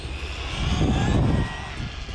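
An Arrma Vorteks 3S BLX brushless RC car makes a full-throttle pass at a skate park, a loud continuous motor whine that swells as it nears and fades away over a couple of seconds.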